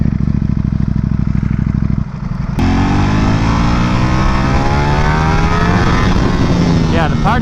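A Ducati Panigale V4S on its stock four-outlet exhaust idles with a loud, fast throb, then revs hard into a rising, sustained roar right up close.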